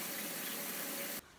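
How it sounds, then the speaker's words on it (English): Water pours steadily into a tie-dye container holding pajama pants, making a broad, loud rushing sound for about a second before it cuts off abruptly and leaves a quieter hiss. "I think maybe I'll add some more water so that it's completely filled."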